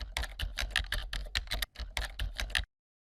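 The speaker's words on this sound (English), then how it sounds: "In fact, you can just start typing." Rapid typing on a computer keyboard, a dense run of close, crisp keystroke clicks with brief uneven pauses, then it stops abruptly into silence.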